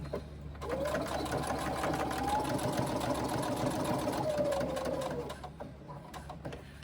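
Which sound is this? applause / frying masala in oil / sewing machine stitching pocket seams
sewing machine stitching pocket seams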